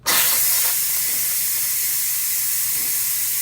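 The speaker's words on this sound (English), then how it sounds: "Okay, I'm going to release the pressure now." Pressure cooker holding a soup of sweet potatoes, chickpeas and red lentils, manually vented: a sudden loud, steady hiss of escaping steam starts at once and continues unbroken, close and alone.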